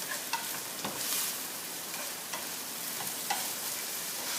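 Okra frying in a pan, a steady broadband sizzle with light stirring clicks throughout, no talk.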